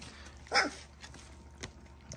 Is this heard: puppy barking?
yes